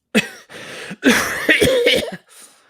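A few sharp coughs in quick succession, close and fairly loud, with a trailing throaty rasp at the end.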